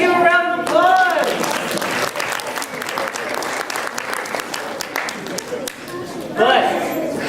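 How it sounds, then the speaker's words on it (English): Audience applause breaks out after a smashing moment at a winter chemistry demonstration show, a dense burst of clapping with voices mixed in, loud and sustained before rising again near the end. "let's give a round of applause"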